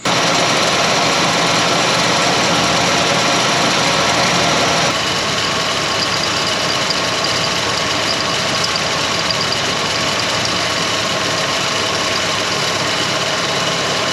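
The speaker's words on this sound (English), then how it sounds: "We obviously are idling a little high." An abandoned Lincoln Continental's engine idles steadily at a slightly fast, even rumble, loud and close, continuing unchanged throughout with no voices.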